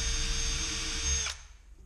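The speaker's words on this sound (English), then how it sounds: "When the hinges are nice and snug, the holes are drilled" Power drill boring holes for door hinges during a garden door build, a short high whine that runs steadily for about a second before cutting off abruptly.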